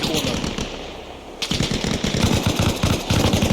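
Bursts of rapid automatic gunfire in Arma Reforger rattle continuously, pausing briefly before resuming louder and denser, close and harsh.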